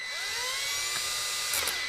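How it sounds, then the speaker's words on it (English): A power drill with a hole saw whines steadily at high speed, a continuous shrill tone with a brief bite and chatter near the end as it cuts through house siding, close by. "Now I can drill it out with my hole saw."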